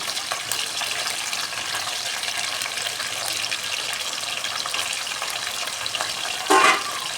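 Half a kilo of chicken liver and gizzard frying in a pan, a loud, steady sizzle close by with a brief louder scrape of stirring near the end.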